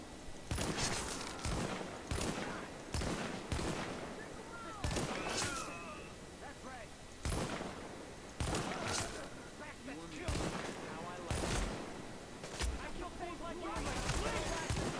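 Gunfire crackles through a firefight in The Division, sharp shots at irregular intervals under a faint spoken game warning and background clamor.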